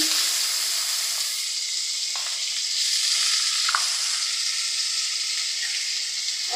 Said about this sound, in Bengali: ফ্রাই প্যানে অনেক তেল ছিল, তার মধ্যে আমি পেঁয়াজ কষি দিয়ে দিলাম